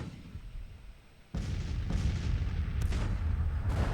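Civil War artillery firing in a wargame battle, a sudden heavy boom followed by rolling, rumbling cannon fire and further distant blasts, loud and sustained after a quieter opening.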